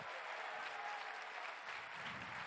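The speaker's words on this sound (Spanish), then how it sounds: "Un aplauso para ellas y ellos." A crowd at the inauguration of a park in Mexico applauds in a dense, steady wash of clapping, fairly distant and continuous throughout.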